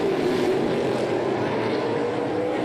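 NASCAR Pinty's Series race cars drive down into a turn while battling for position, a sustained engine drone holding steady and slightly fading, heard at a distance.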